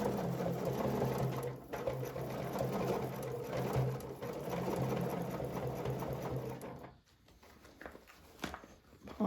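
Quilting on a sewing machine runs steadily with a loud, continuous motor whir and rapid needle chatter, then stops abruptly near the end, leaving quiet handling noises.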